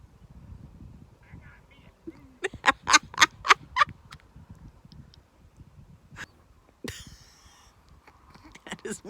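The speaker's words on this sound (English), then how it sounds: "That is one pissed off goose." An agitated goose by a partly frozen pond lets out a burst of loud, harsh honks in quick succession, then a few scattered calls against a quiet low rumble.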